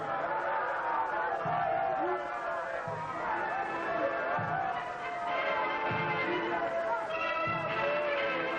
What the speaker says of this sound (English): Huge crowds jostled for choice vantage points all along the route in the hope of seeing the Emperor